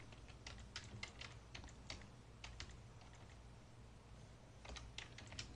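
Typing on a computer keyboard while entering employee records in accounting software, with irregular clusters of light clicking keystrokes and key presses, close and quiet, with short pauses between bursts.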